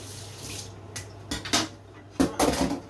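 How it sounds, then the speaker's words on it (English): A quick rinse under a running kitchen tap in a sink while making tomato sauce pasta: bursts of splashing water, louder toward the end, mixed with clinks of pots and cutlery, and no talk. "Give that a quick rinse."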